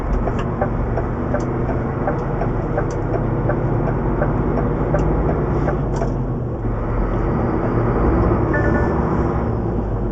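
A lorry's diesel engine drones steadily from inside the cab while driving an obstacle course, a loud continuous low rumble with faint rattles and clicks over it, and no talking.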